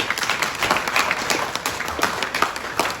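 Press conference audience at Wembley Stadium clapping for promoter Frank Warren, a steady dense patter of many hands filling the whole stretch, fairly close, with no voices over it.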